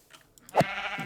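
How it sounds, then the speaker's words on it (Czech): A sheep in the Minecraft video game gives a single short bleat, clear and fairly close, with faint clicks before it. "Tamhle jsou ovce."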